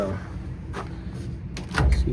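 The broken door of a laundromat washing machine, its latch handle snapped off, is worked open and closed, giving a few dull knocks and clunks up close over a constant low machine hum, with someone talking at the same time.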